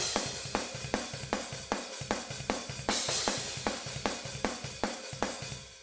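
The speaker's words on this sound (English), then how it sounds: "they are the Drumforge overheads because I like how these sound" Pop punk drums captured through Drumforge overhead microphones, a fast steady beat with punchy kick and snare hits and bright cymbal wash, about two strikes per second, loud and alone without talk.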